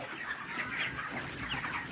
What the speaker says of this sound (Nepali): कुखुराहरू